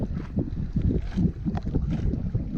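Steady strong wind buffeting the microphone at a Baltic Sea harbour, a continuous low rumbling roar with gusty surges and no voices.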